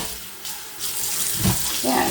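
Water runs steadily from a kitchen tap as a grimy Brillo pad is rinsed under it, a loud continuous splashing rush with brief surges as the pad moves through the stream.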